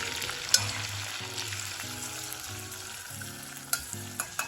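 Chopped capsicum sautéing in a pan gives a soft, continuous sizzle, broken by a few crisp spatula knocks and scrapes, mostly toward the end.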